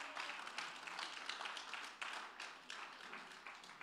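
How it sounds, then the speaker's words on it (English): Church congregation clapping hands in praise, a dense, continuous patter of many hands through the whole stretch, fairly faint and steady with no talk over it. "you should give the Lord a good hand clap of praise right now"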